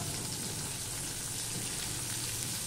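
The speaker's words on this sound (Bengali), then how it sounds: "এবার দিয়ে দিলাম এই পেঁয়াজটুকু।" Onions sizzling in a hot pan while bhindi is cooked with nigella seeds, giving a quiet, steady frying hiss that runs unbroken for a few seconds.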